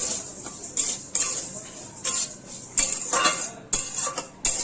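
Rice stirred as it fries on low flame in a wok, a utensil scraping and clinking against the metal in repeated bursts, close and moderately loud with no talk.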